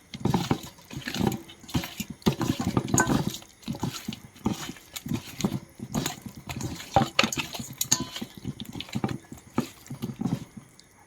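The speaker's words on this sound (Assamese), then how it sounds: "এতিয়া এইখিনি ধুনীয়াকৈ ফ্ৰাই কৰি লওঁ" Rohu fish pieces coated in salt and colour powder sizzle and spit in a hot pan, a steady crackling fry with bursts of louder popping and spatter throughout, close and fairly loud with no voices.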